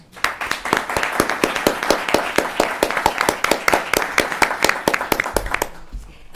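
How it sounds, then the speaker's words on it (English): Steady rhythmic clapping from the audience at an international public policy debate semi-final, honoring student debaters; a room full of hands beating in near-unison, sustained for several seconds before fading out. "Let's give these students a big round of applause"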